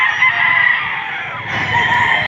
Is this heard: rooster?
yes